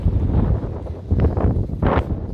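Gusty wind in Kaliningrad in April, around plus 8 degrees, buffets the microphone in uneven low rumbling bursts, with a brief rustling swell near the end.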